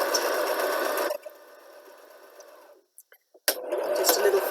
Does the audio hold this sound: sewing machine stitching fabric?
yes